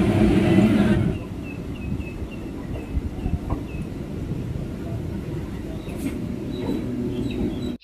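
A Sealdah to Namkhana local train rumbles on steadily from inside the carriage, with a steady low roar, faint rattles and a louder stretch at the start, and no voices.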